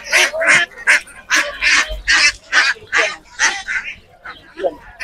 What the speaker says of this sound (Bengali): তো আজ দেখলেন এই যে আমি ধরে হাঁস ধরছি